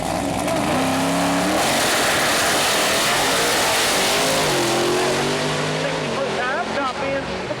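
Pro Mod drag race car roaring down the strip at Mooresville Dragway, a sustained loud engine blast with rising pitch, with crowd and announcer talk mixed underneath.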